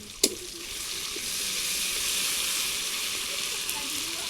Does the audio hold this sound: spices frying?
yes